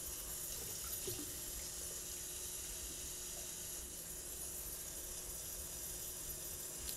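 Water runs steadily from a tap into a sink while a Lamy fountain pen is flushed clean, a constant close splashing hiss with no pauses.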